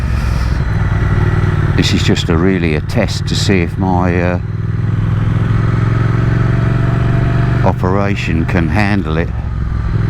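A Triumph Speed Twin motorcycle is ridden on a short circular route, with a steady engine drone and rising and falling revs close to the rider, heard under the rider's ongoing talk.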